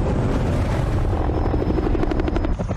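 A helicopter lands in a backyard in the film Arrival, its rotor giving a loud, steady thumping chop with engine whine, close and continuous with no talk over it.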